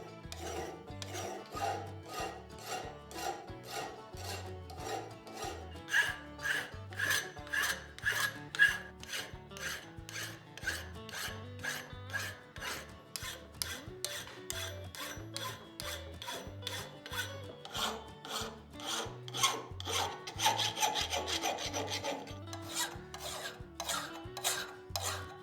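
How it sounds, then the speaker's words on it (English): Steady rhythmic rasping of a hand file on a forged axe edge, strokes repeating evenly back and forth with close, gritty metal scraping and no talking. "When filing the edge"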